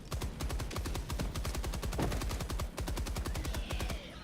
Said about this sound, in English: Is that the HMG or the MG? That's the MG.